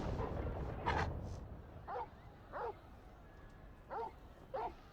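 Torgal, the dog companion in the Final Fantasy XVI video game, gives several short soft whimpers and yips at a steady spacing, faint over a low ambient hum.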